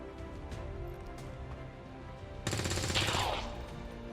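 A soldier's gunshot burst in XCOM 2 erupts suddenly after a quieter stretch of ambient game sound, a loud, dense rattling volley lasting about a second before tailing off.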